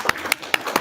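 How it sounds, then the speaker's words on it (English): Four sharp, evenly spaced hand claps close by during a talk on Vaishnava etiquette at ISKCON Calgary, brief and distinct with quiet between them. "well done, clap your hands."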